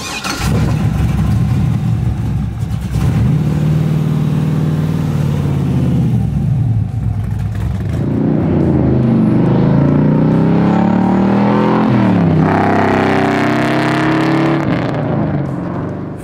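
A 1973 Camaro with an LSX V8 and exhaust cutouts revs hard and loud, the deep rumble climbing and falling through repeated blips and sustained pulls before settling back, close and alone.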